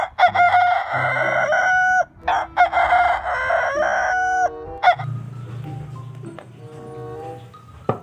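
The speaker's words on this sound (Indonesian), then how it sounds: "ternyata ini ada ayam jantan" A rooster crows loudly several times in a row, with a few hen clucks mixed in and a lower animal call near the end.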